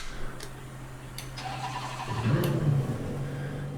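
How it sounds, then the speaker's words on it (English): A race car engine cranks and fires up inside Assetto Corsa Competizione after quiet clicks from the cockpit, catching with a throaty rise and then settling into a steady, close running drone. "we're gonna go ahead and hit that ignition."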